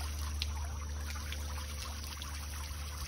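Koi being poured into a backyard pond: a steady, close rush of pouring water runs evenly from start to finish without a break.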